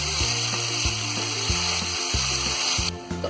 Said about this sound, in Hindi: तो अदरक लहसुन को हमने यहाँ फ्राई कर लिया है।